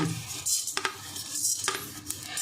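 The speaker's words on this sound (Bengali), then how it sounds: "এবার আমি পাঁচফোড়নটা দিয়ে দেব।" Panch phoron whole spice mix tossed into a pan on low gas heat while making oil-free mango pickle, with clinking metal utensil scrapes and stirring over a soft sizzle.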